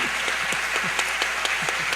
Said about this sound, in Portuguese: Palmas para Luiz Fernando Veríssimo